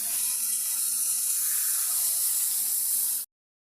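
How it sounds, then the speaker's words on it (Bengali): Liquid pours steadily into a pan of carp and pointed gourd curry being cooked, a continuous close hissing splash lasting about three seconds and then stopping abruptly, with no talk. "এখন তরকারিতে ঝোল দেওয়া হচ্ছে।"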